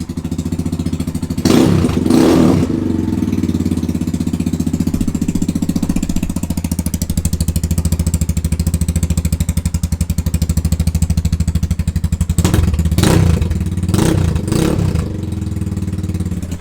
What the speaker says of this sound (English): A little bit of choke right now, so it's idling a little high,